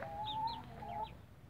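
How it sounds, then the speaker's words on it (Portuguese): Hens cluck softly with a rooster among them in a backyard flock during mating, a few short bird calls rising over a steady low farmyard rumble. "O Beija tá só galando as galinhas aqui atrás de mim"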